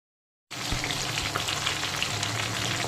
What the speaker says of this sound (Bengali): পমফ্রেট মাছের একটা দিক ভালো মতো ভেজে নিয়েছি, মাছগুলোকে আমি উল্টো করে দিচ্ছি